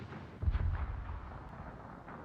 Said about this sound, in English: Rybik takes a torpedo